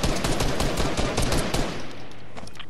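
Rapid bursts of video game gunfire fill an arena match, dense and loud throughout, with overlapping shots and an automatic-weapon rattle that eases slightly toward the end.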